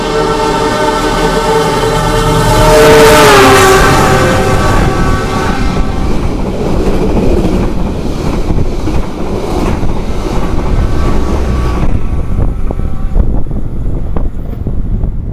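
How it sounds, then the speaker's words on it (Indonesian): The Argo Dwi Pangga express train rushes past up close through Karawang station, its horn blaring briefly before a roaring, clattering wash of wheels and wind that slowly fades. "Ngebut banget kereta api Argo Dwi Pangga berjalan langsung di stasiun Karawang."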